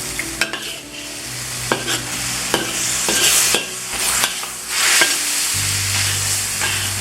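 Chicken and vegetables stir-frying in a wok over a gas flame, a loud continuous sizzle with repeated sharp clanks and scrapes of stirring, close up with no voices.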